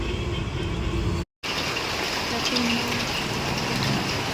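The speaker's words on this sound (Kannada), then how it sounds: "ಮಳೆ ಬರ್ತಾ ಇದೆ" Rain falls steadily in Bengaluru as a dense, even hiss filling the whole clip, with a brief dropout and faint traffic noise mixed in.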